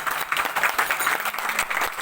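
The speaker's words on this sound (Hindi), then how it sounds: "एक बार हमारे प्रांगण में बैठे सभी भक्तों के लिए जोर से ताली बजाइए आप लोग।" An audience of devotees at a religious gathering claps together in a steady, dense burst of applause, continuous and fairly loud for its whole short length, with no voices.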